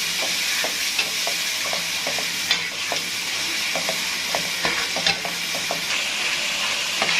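Masala for a minced meat and bitter gourd curry sautés on a low flame with a little added water, a continuous soft sizzle under repeated scraping spoon strokes at an irregular, unhurried pace, close by with no voices.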